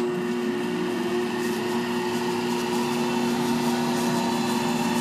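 A wooden flywheel on a test bench, spun by a 110-volt treadmill motor under a PWM controller, whirs steadily with a loud, even motor whine and a constant hum that holds without a break.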